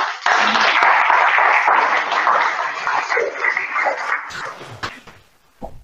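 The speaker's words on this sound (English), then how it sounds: "Welcome Paweł, warm applause." Conference audience at an R programming event gives a steady round of dense clapping that fills most of the stretch, then thins out and fades, with a few last claps near the end.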